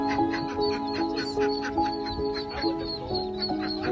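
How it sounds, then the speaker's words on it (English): A mother duck reunited with ducklings rescued from a storm drain quacks repeatedly in loud, nasal bursts, close by, over a steady tonal background. "Quacks of joy all around."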